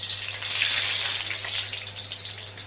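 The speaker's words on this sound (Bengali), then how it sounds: "সর্ষে ফোড়ন দিয়ে দিলাম" Mustard seeds dropped into hot white oil in a kadai, a bright crackling sizzle with dense popping that swells early and then eases slightly, with a steady low hum beneath.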